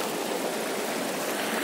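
Water pours steadily from a hose running off a waste-incineration plant construction site near Khmetyevo, Moscow region, into a forest stream, making a continuous close rushing and splashing hiss with no break.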